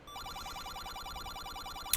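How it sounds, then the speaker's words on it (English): A low-health heart alarm from the NES game The Legend of Zelda beeps in a steady, rapid repeating pattern throughout, a bright electronic tone running continuously with a small click near the end and no talking. "the heart alarm's going off."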